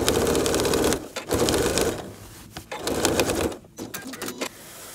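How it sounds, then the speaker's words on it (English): A sewing machine quilting a spiral on a small quilt runs in close, steady bursts, with three runs of rapid stitching separated by short pauses. "I'll just start quilting here and then do a parallel line"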